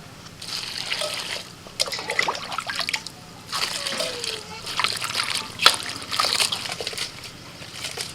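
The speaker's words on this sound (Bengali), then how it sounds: "দুবার তিনবার জল পাল্টে ভালো করে ফুলগুলো ধুয়ে নেবে" Drumstick flowers are washed by hand in a bowl of water, with repeated splashes, sloshes and trickles coming in bursts up close, and a voice speaking now and then over the water.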